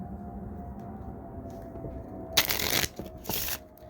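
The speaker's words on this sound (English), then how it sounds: "Come on, one more shuffle" Two quick riffle shuffles of a card deck, crisp bursts of fluttering card noise over a low ambient hum, each lasting under a second.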